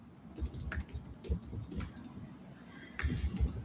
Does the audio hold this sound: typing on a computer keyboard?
yes